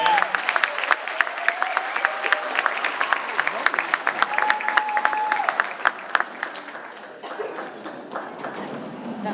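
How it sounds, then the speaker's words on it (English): Audience applauding a high school marching band at a winter concert, sustained mixed clapping with sharp individual claps standing out, fading slightly toward the end while voices murmur underneath. "How about another round of applause for the 2016 Pokemon High School Marching"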